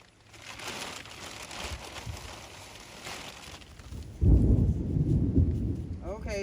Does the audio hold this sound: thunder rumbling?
yes